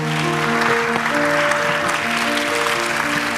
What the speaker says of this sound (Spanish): sigue dando aplauso al Señor